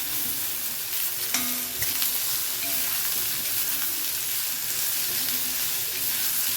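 Chayote pieces frying in hot oil in a pan, a steady dense sizzle throughout with occasional stirring scrapes, close and moderately loud, no talking.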